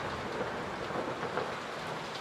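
Steady rain pours over a dark room in the Layers of Fear horror game, with a low thunder rumble rolling under the hiss, with no voices.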